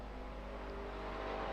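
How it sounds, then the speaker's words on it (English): A GT3 race car approaching at Watkins Glen during a race, a steady low engine drone that builds slightly toward the end, with no talk. "we can hear the car coming there"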